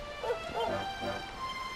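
A dog in the Dragon Quest XI video game gives a few short, high yipping barks in quick succession, fairly close and clear over a faint game background.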